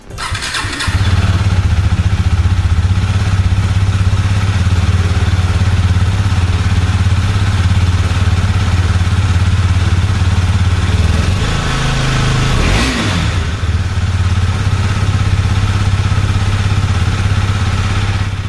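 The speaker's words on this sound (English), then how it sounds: "now let's hear the exhaust note of the vehicle" A 2022 Husqvarna Vitpilen 250 motorcycle engine idles loud and close with a steady low rumble, briefly rising in a quick rev before settling back.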